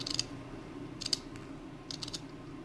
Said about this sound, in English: I'm just going to use my Tim Holtz scissors here